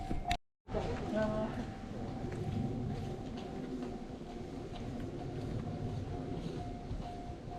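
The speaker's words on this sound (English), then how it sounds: "a train will interrupt your magical moment." A train rumbles steadily past the Arashiyama bamboo forest in Kyoto, a continuous moderately distant roar lasting several seconds with a faint tonal hum, while people speak quietly nearby.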